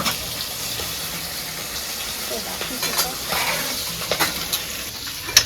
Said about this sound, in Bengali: এটা ভাজা হচ্ছে এতে আদা রসুন বাইটি নিব